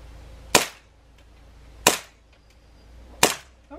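Toy cap gun shooting at Easter eggs outdoors on Easter Sunday: three sharp, loud pops spaced roughly evenly about a second and a half apart, each with a brief fading tail, no talk in between.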